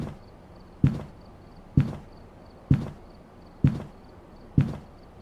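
Slow footsteps of a Revenant ghost in Phasmophobia, five heavy, deliberate thumps spaced nearly a second apart, close and loud with a brief decay each, over a faint steady background hum and no voices.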